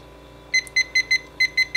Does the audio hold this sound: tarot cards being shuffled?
no